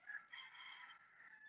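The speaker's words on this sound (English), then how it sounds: "ignore those roosters" Roosters crow faintly in the distance, one drawn-out cock-a-doodle-doo call heard on its own with no voices over it.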